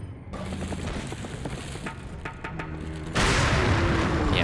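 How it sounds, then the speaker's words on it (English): Grenade blast in Resident Evil 4, preceded by clicking, rattling mechanical sounds and scattered gunfire-like pops, then a sudden loud, sustained explosive roar in the final second and a half. "Probably another grenade."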